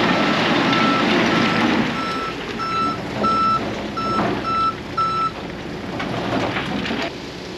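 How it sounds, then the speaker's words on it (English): A dump truck backing up at a driveway culvert installation sounds its backup alarm, a steady series of evenly spaced beeps over loud engine rumble and outdoor noise. "So we'll back that first truck right up in here."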